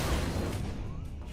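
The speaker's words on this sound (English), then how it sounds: "Fireworks!" Fireworks in the video game Bound by Flame: a loud burst of booming pops that fades over about a second.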